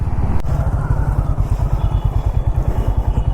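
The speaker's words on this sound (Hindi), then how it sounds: "जो इसकी आवाज़ है वो इस बाइक का सबसे बड़ा प्लस पॉइंट है" A Honda CB350RS motorcycle engine runs steadily and loud and close, its low, even thumping pulses continuing throughout with no voices.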